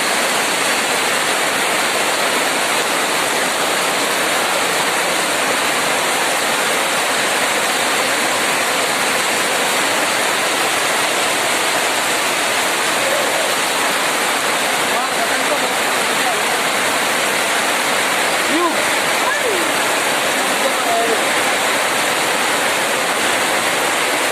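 A heavy downpour in a village roars steadily and loudly without a break, a thick unbroken wash of falling water that stays close and even from start to finish.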